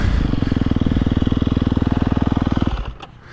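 A KTM 350 SXF four-stroke dirt bike with a Vortex ignition and aftermarket pipe running pump fuel revs hard and close, a loud rapid pulsing engine note held for over two seconds before dropping off abruptly.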